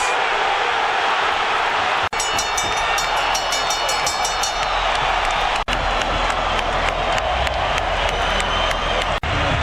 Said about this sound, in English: This crowd still erupting